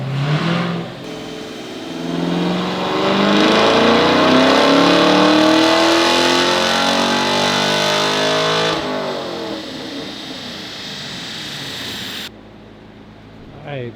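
A 2020 Camaro with a full stage 4 package and LT1 engine revs hard on a dyno while warming up, a loud sustained roar that climbs and holds, then drops away near the end.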